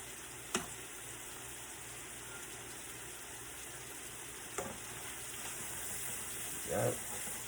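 Butter fries in a hot pan for a stir fry, giving a steady soft hiss and crackle, with a few faint clinks and a brief bump near the end.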